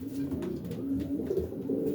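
Racing pigeons coo steadily in a loft during pairing season, a soft layered chorus of low rolling calls from several birds close by.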